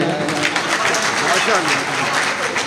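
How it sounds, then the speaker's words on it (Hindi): Audience applause at an All India mushaira poetry gathering in Mominpura, Nagpur: dense, continuous clapping from a crowd, loud and close, with voices mixed in. "ताली बजाई जाए"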